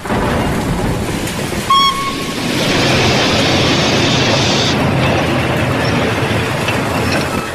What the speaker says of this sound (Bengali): রাত্রির 2টোর ট্রেন আধ ঘন্টা লেট করে যখন স্টেশনে এসে পৌঁছল